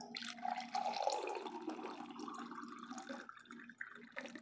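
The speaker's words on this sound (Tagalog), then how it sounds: "So lalagyan natin ng mainit na tubig." Hot water pours into a drinking glass for coffee, a close, continuous splashing stream that rises in pitch as the glass fills, then tapers off.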